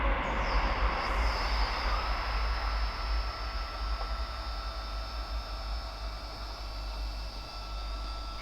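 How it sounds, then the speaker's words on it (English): A train passes at night, its steady rolling rumble and broad rushing noise filling the scene, with a faint high whine above it, fairly close and continuous throughout. "just as the train goes past"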